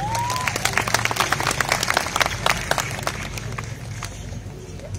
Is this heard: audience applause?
yes